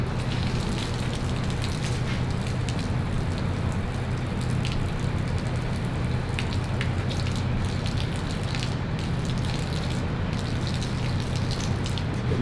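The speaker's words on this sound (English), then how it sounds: "I just empty some of this water out." Water gushes and splashes steadily from a pressure washer hose being emptied out after use, a continuous broadband pour with no voices.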